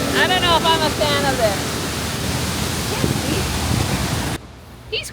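Waterfall roaring from about 40 feet away at its deep base, a dense continuous broadband rush, loud and steady, briefly overlaid by faint voices early on before cutting down near the end.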